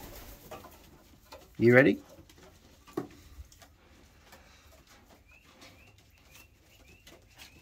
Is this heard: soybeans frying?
no